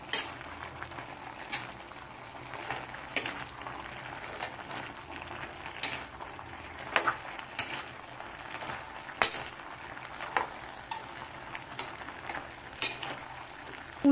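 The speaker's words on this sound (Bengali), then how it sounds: "হলুদ গুঁড়ো দিয়ে দেবো, লঙ্কার গুঁড়ো, ভাজা ধনে জিরে গুঁড়ো দিয়ে ভালোভাবে কষিয়ে নেব।" Malabar spinach is sautéed in a pan with turmeric, chili powder and roasted coriander-cumin powder, giving a low, steady sizzle broken by a spatula clinking and scraping against the metal at irregular intervals.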